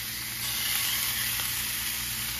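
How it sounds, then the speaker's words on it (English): Beef short ribs sear face down in a hot skillet, giving a steady, close sizzle and hiss that continues without a break. "now what we want to do now is sear them up before we put them in the crock pot"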